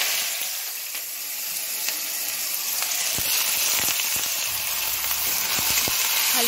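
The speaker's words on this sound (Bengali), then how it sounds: "আলুটা একটু গরম গরম ভাজছে" New potatoes fry in hot oil in a kadai, a continuous loud, close sizzle and hiss with occasional crackles and light stirring scrapes, with no voices.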